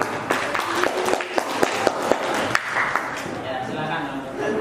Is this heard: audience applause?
yes